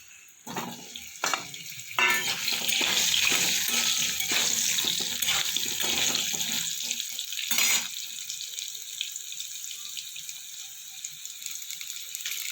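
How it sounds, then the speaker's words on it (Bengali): Sliced potatoes sizzling in a pan while a meatless spicy flat bean and potato curry is cooked, with steady frying hiss and a few clatters of stirring over about eight seconds before the sizzle drops back to a quieter simmer. "আলুটা আমি ভেজে তুলে নেব।"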